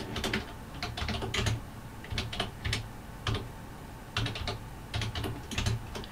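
Fingers type on a computer keyboard running a Chinese Windows 3.2, quick bursts of key clicks separated by short pauses, close and steady with no talk.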